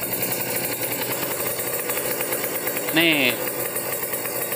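A car engine revved and held near 4000 RPM, a steady mid-pitched drone under someone speaking Indonesian, with a brief rising whine partway through.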